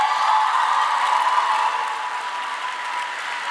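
An audience at a medical school declaration ceremony breaks into loud, sustained applause for families, a thick wall of clapping that eases slightly in volume toward the end.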